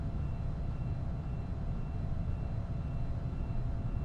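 Steady droning engine of an aeroplane in flight inside a blocky video game, a continuous low roar at even loudness throughout with no talk.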